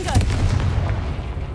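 Confringo fire curse spell bursting in Hogwarts Legacy, a heavy booming blast with a deep low rumble that sustains through the whole moment, loud and close.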